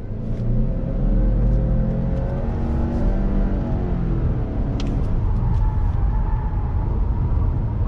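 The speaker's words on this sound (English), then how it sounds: "Let me go ahead and we're gonna get on throttle." A 2020 Subaru Legacy XT sedan with all-wheel drive and a CVT accelerates hard on throttle, its engine a steady loud rumble and whir that holds throughout with no talking.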